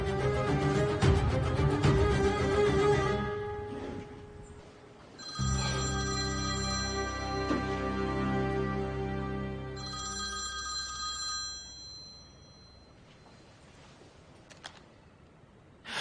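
A phone ringtone rings out in a bright, repeating electronic tune, loud and close, then fades into quieter tones, with no talking.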